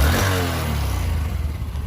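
A new 2025 Honda SP125 OBD2B motorcycle engine runs steadily up close, a loud low harmonic hum with a slight rise at the start, no talking.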